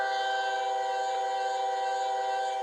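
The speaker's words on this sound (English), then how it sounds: "You'll notice an improvement in long horns and whistles." Bachmann model train sound app plays a long, smooth horn or whistle tone, steady and sustained at even volume with no talk.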